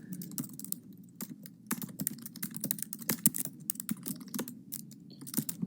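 Quiet, close typing on a computer keyboard while code is entered, with irregular clicking keystrokes over a low steady hum.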